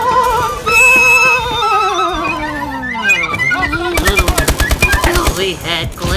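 A rapid burst of ASM1 submachine gun fire in a video game, loud sharp shots in a fast rhythm through the second half, over earlier music-like tones.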